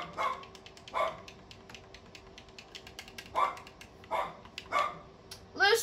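A dog barks in short, separate bursts, about six over several seconds, fairly close, with quiet gaps between them.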